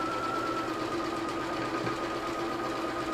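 Sewing machine stitching a quilt block, a steady, close mechanical whir and hum that runs continuously without pause.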